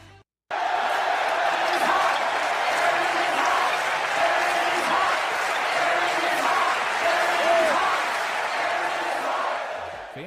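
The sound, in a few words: arena crowd cheering and chanting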